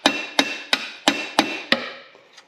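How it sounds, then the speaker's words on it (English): A hammer strikes a punch to jar loose a stuck CV axle bearing on a Toyota/Lexus, six sharp metallic whacks at an even pace, each ringing briefly, loud and close with no talk. "you're gonna give it a couple of good whacks to try to jar that bearing that's in there"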